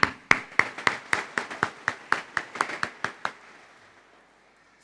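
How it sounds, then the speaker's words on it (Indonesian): A group of children claps in church after a cheer, about fifteen sharp, evenly spaced claps in unison, fading out into room silence. "Tepuk tangan."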